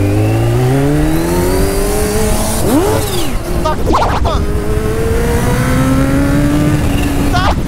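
A Kawasaki Ninja H2 sport motorcycle engine revs and accelerates loudly, its pitch climbing through repeated gear changes, with a person speaking briefly over the noise.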